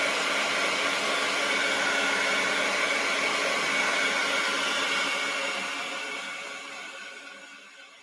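A handheld heat tool blows steadily on a painted art journal page, a loud continuous whoosh of air that holds for several seconds and then winds down as it is switched off.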